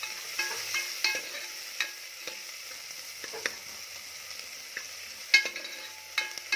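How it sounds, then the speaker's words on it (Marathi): Onion with a little salt being stirred and sautéed in a pan for Kolhapuri mutton rassa: soft, faint frying hiss under intermittent spatula scrapes and light taps, close and unhurried, with no voices. "कांदा छान परतवून घ्यायचा आहे मी ते अगदी थोडंसं मीठ घालते कांदा आपल्याला परतून घ्यायचा आहे"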